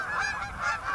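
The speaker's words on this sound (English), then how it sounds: "This goose is fucking fire, man." Goose honking during a hunt, a quick series of close rhythmic honks, fairly faint, with no talk over them.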